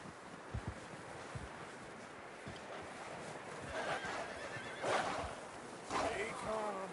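A horse in the Red Dead Redemption 2 video game whinnies a few times near the end, rising bursts over steady wind and ambient noise, with brief clip-clop thuds early on.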